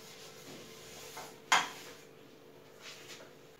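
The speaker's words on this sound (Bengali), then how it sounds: "এবার এই এক্সট্রা অয়েলটাকে আমি একটা টিস্যু দিয়ে মুছে নিচ্ছি।" A tissue wipes excess oil from a hot pan while making dora cake, giving one brief, quiet scrape in an otherwise calm kitchen.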